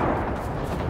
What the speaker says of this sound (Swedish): Skott kommer!